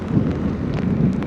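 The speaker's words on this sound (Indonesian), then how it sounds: "Oke guys, akhirnya hujan turun ya." Heavy rain pours down beside a river, making a steady, dense hiss that stays loud and even throughout the short stretch.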